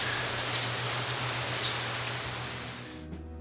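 Steady rain falls through a Costa Rican forest, a dense continuous patter of drops on leaves and surfaces that stays loud and even before fading at the end.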